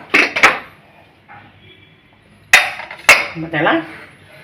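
Sharp metallic clanks and clinks of a pressure cooker lid being handled and opened, close by, with brief quieter rattles between the knocks.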